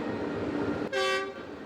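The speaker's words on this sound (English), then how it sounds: "our correspondent Fili Haza paid a visit to a train station in Abuja, the country's capital" A train's horn at a railway station in Abuja, Nigeria, sounding one short, bright toot of under half a second that rises abruptly out of a steady, noisy station background and fades quickly.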